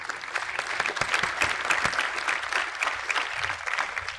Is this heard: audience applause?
yes